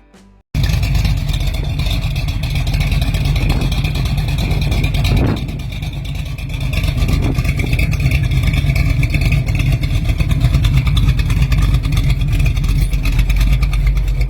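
A pro street car's 496 cubic inch engine with a 10-71 blower and two 850 double pump carbs roars loud and close, holding a constant rough rumble with a brief surge partway through.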